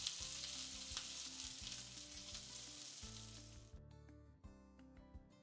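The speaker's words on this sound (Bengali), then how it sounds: "পেঁয়াজটা হালকা করে ভাজবো।" Sliced onion fries lightly in a pan over a low gas flame, giving a steady bright sizzle that cuts off abruptly partway, leaving quieter crackles and faint clinks.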